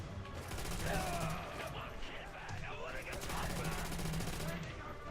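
Gunfire from the Call of Duty: World at War video game, with bursts of rifle and machine-gun shots cracking back and forth in a busy firefight, someone talking over the shooting throughout.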